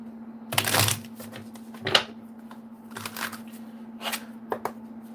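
Tarot cards shuffled by hand in several short riffling bursts with pauses between, close and crisp over a steady low electrical hum.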